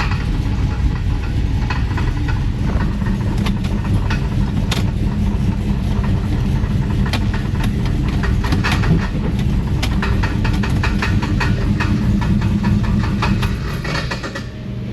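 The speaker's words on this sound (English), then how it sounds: "it sounds like a loose flywheel or something" A car engine with a suspected loose flywheel runs continuously and loudly, a dense rumbling drone with rattling, knocking transients throughout, steady until easing off slightly at the end.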